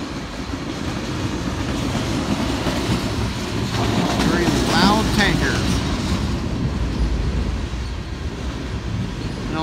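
Full-length freight oil train of tank cars hauled by a single SD70ACe locomotive, rolling past with a steady heavy rumble and rhythmic wheel clatter that swells toward the middle, while a voice talks over it.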